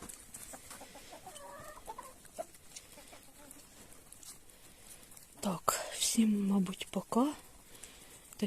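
Chickens cluck and a rooster calls close by, growing louder toward the end over faint whispered voices.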